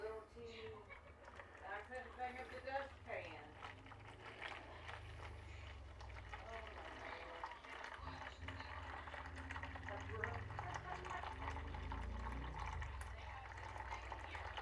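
Cooking fat and juices poured steadily from a pan into a bowl while making chicken enchiladas, a continuous low liquid rush and trickle running the whole time in a kitchen.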